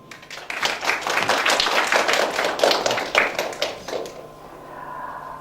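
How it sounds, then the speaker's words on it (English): A room of people claps in a dense, steady patter that fades out after a few seconds, leaving a faint hum. "let us give them a round of wide applause"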